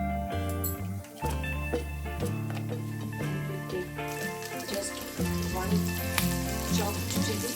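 Cumin seeds (jeera) crackle and sizzle steadily in hot oil with a spoonful of ghee, a busy close frying hiss with small pops throughout, alone without talk.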